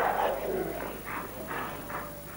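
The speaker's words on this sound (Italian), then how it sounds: "Questa cagna si sente ad esempio troppo stretta nell'angolo e reagisce abbaiando." A dog barks in a few short, evenly spaced bursts at moderate distance over faint background noise, the first sound longer and more whining before the clipped barks follow.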